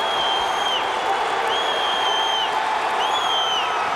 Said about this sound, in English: the crowd is up for Montague.